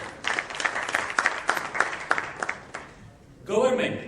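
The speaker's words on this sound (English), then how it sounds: "I would like to have a big round of applause for all of them here" An audience at the Western India IT Fair applauds in a dense, sustained burst of clapping, steady for a few seconds before tapering off.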